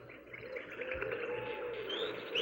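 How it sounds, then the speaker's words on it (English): Birds chirping and calling at sunrise in the woods, a faint steady chorus of tweets with a soft background hum. "At sunrise, he woke with the birds singing around."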